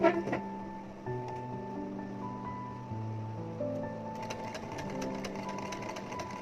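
A sewing machine fitted with a squiggly ruffler presser foot runs slowly while stitching a button-down shirt into a ruffled sleeveless top, a steady motor hum with shifting tones and a patter of needle clicks late on.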